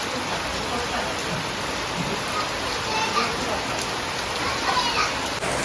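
Heavy rain pours in a constant dense hiss, with faint voices and small knocks underneath.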